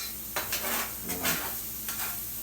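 Eggs frying quietly in a large skillet, a soft steady sizzle broken by a few brief scraping and stirring sounds from a utensil, faint and close, with no talking.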